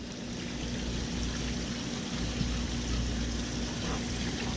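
Dog splashing in water, a continuous steady wash of splashes and trickling close by, with no voices.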